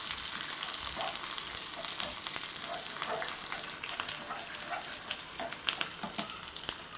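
Onions fry until browned in a pan of oil, producing a constant dense sizzle with faint crackles and occasional light stirring, steady and close.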